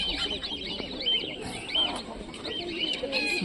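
Pigeons cooing softly in repeated low, throaty phrases at a poultry show, with other bird chirps and faint background noise around them.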